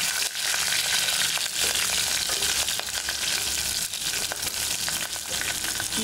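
Dry red chilies, green chilies and crushed garlic frying in oil in a pan for tamarind rasam, a steady, close, loud crackling sizzle with occasional pops, running unbroken throughout.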